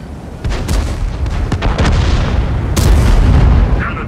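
A tank's main gun fires in World of Tanks, loud booming blasts over a rumbling battle backdrop, with sharp cracks and bursts layered through the scene.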